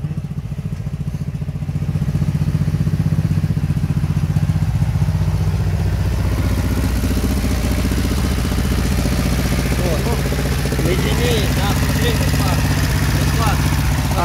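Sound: old car engine running, exhaust

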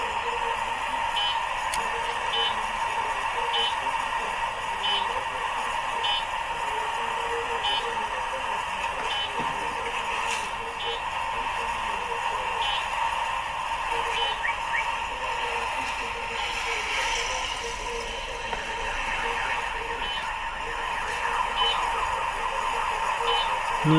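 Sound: street traffic noise

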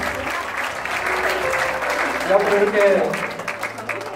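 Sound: audience applause for committee members

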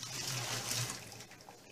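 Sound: pouring boiled water out of a cast iron pot

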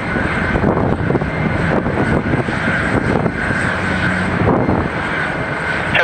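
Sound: Doraemon Jet airliner taking off at Haneda Airport

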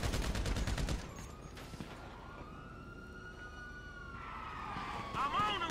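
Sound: gunfire in Grand Theft Auto 5 video game

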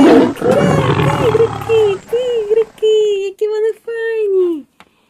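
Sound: big cats roaring, cartoon cheetahs, leopard and lions

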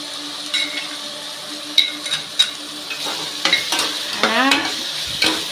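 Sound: ginger garlic paste sautéing with tomatoes in pan

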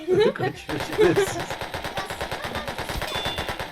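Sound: gunfire in the Roblox video game

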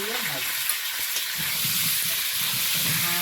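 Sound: meat frying in a pan

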